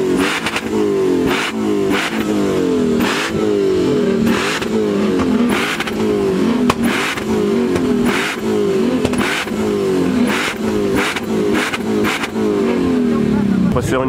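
A BMW car engine revs in repeated rhythmic bursts, each surge rising and falling with an odd, rough noise. People talk over the engine.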